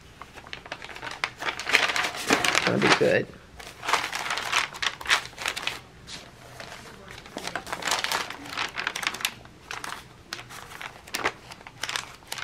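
Stacks of decorative art papers, some coffee-stained, are flipped through by hand. The sheets crinkle and rustle in repeated bursts, with a person talking briefly between the flips.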